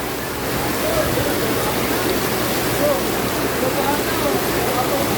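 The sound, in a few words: heavy rain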